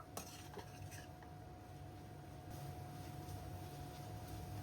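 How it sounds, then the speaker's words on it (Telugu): A spoon stirs and scrapes chicken with masala and kasuri methi in a pan, faint repeated metallic clinks over a soft steady background, with no talking. "ఇప్పుడు వీటన్నింటిని బాగా కలుపుకుందాము"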